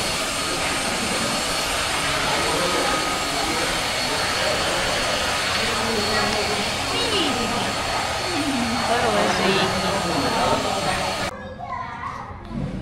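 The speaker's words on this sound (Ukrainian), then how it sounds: "Постійно вмикають пилосос, прибирають з котиків щоб тут вона не накопичувалася." A vacuum cleaner roars steadily up close at a cat café in Vietnam, with children's voices and chatter mixed in over the drone before it cuts off near the end.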